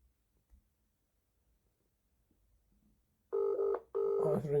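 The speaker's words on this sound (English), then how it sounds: "Oh, it's ringing." A telephone ringback tone sounds on an outgoing call after near silence: two loud, close rings, each about half a second, separated by a short gap.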